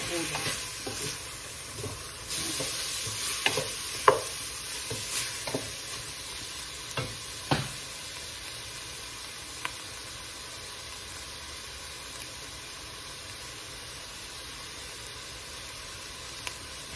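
Chili powder fries in sesame oil as a spoon stirs it, with a low steady sizzle under scattered scrapes and clinks that come thick at first and then thin out.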